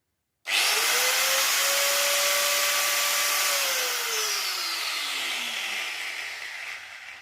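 An angle grinder starts up abruptly after being tightened and runs steadily with a loud high whine, then its pitch drops as it winds down toward the end. It is close and alone, with no talking.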